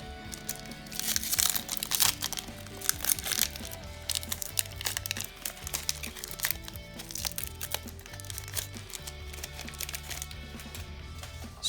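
Foil wrapper of a Magic: The Gathering Eternal Masters booster pack being crinkled and torn open, with bursts of loud crackling and rustling close up and scattered card handling.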